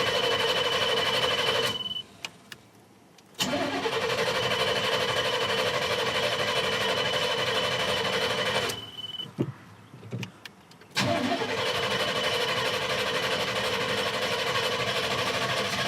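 A dually pickup truck engine runs with a steady, close idle. It cuts out twice, and each time the starter cranks before the engine catches and settles back into its running drone.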